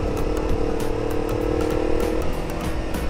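A custom cafe racer or scrambler motorcycle engine running and revving, a steady rumbling drone with a sustained tone that drops away near the end, heard at moderate distance amid outdoor background noise.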